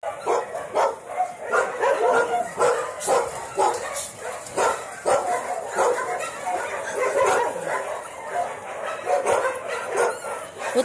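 Small dog barking indoors in quick, sharp yaps mixed with whimpers and yips, close and loud, with a voice talking over it at times.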